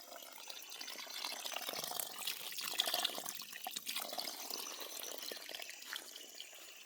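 Water rushing and splashing as it flows into a farm well, a steady, moderately close stream of fairly quiet liquid noise with no voices.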